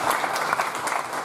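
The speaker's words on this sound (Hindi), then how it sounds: "एक बार तालियां बजा दें।" Brief burst of audience applause at a live comedy and poetry show, a dense wash of clapping from a crowd, loud and close, with no break.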